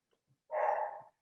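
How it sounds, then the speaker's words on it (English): A dog gives a single short bark, fairly faint and set against near silence, with a couple of tiny clicks just before it. "My dog's barking."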